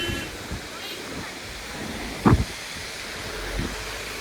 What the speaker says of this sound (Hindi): बारिश पूरा बहुत ज़ोर से चालू हो गई है